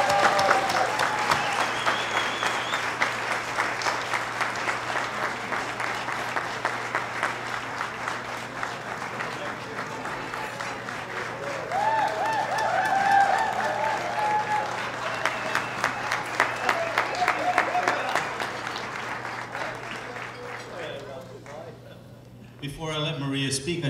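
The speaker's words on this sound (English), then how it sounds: "would you please give a very loud applause for a very grand person" Loud, sustained applause from a dinner dance audience honoring a guest, steady dense clapping with crowd murmur and some voices mixed in, swelling slightly midway and tapering off near the end.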